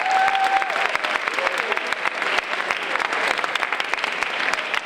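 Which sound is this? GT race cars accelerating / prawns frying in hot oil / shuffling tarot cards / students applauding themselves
students applauding themselves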